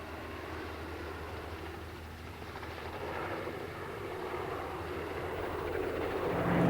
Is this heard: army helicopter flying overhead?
yes